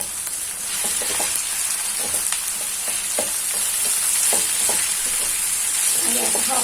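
Chopped onion and spring onion frying in a pan for a Marathi kanda zunaka, a steady close sizzle with scattered crackles and occasional stirring scrapes.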